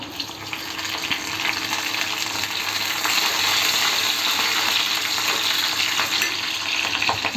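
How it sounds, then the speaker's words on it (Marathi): Garlic sautés in hot oil for a fenugreek vegetable dish, a loud, dense, even sizzle that swells slightly and holds steady throughout, close and alone. "ही लसूण आपण काय करायची माहिती आहे, चांगली अशी परतून घ्यायची तेलात"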